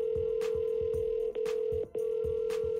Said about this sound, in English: the AI is transferring the call to my phone number